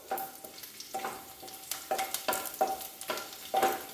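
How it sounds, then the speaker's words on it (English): Garlic fries in hot oil in a pan for bhindi masala, a steady close sizzle broken by repeated scraping stirs at a regular pace, with no voices. "let the garlic fry for a few seconds"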